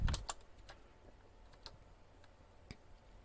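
A password typed on a computer keyboard at an OctoPi login for a Raspberry Pi, heard as a few sparse, faint keystroke clicks against a quiet background, with a slightly louder tap near the start.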